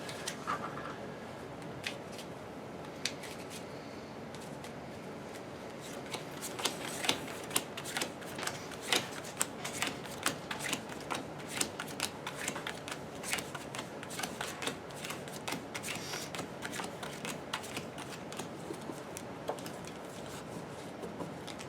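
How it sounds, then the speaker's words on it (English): Cards being shuffled at an Arkham Horror card game session, a soft repeated riffling and patter of cards close by, faint and continuous, with no speech. "Did you shuffle your deck over there?"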